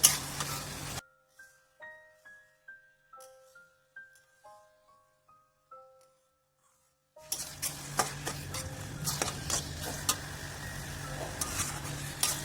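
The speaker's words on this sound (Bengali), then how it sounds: "আমাদের যে চিকেন কিমাটা আছে আমরা দিয়ে দিলাম দিয়ে তাকে ভালো করে নাড়াচাড়া করে নেবো" Chicken mince stirred in a frying pan gives a steady sizzle with scraping strokes. A short stretch of plain tones comes first, and then the loud, dense frying fills the last five seconds.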